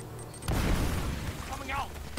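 A grenade blast in Uncharted: Drake's Fortune, heard as a sudden deep boom with a rumbling tail that lingers over the game's background noise, and a voice talks briefly.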